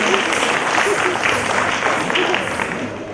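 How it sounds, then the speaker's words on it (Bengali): An audience at a district cultural program applauds, a dense, fairly loud wash of clapping lasting about three seconds with faint voices beneath it. "করতালি হবে তাদের জন্য।"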